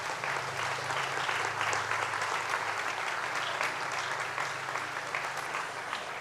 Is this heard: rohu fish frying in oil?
no